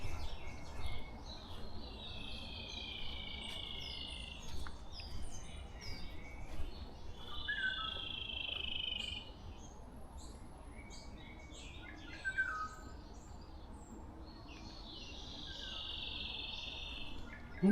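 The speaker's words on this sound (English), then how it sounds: "Interesting, I've never heard that bird before." An unfamiliar bird calls among other songbirds in a mountain forest at dawn, with clear drawn-out whistles repeating every few seconds over a steady insect chorus and no voices.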